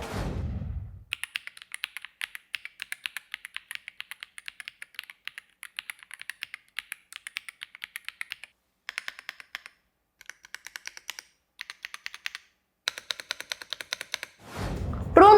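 Rapid, uneven keystrokes clatter on a computer keyboard in bursts with brief pauses, crisp and close, with no talking.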